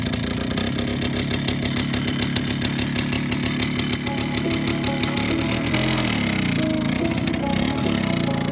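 Small engine of a Minsk mini tractor chugging with a fast, steady rhythmic beat, loud and close, then shifting in tone partway through as it revs.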